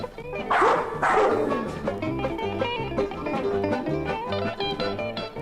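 Hunting dog barking and yipping in a few quick bursts near the start, loud and close, then fading under a busy orchestral music score.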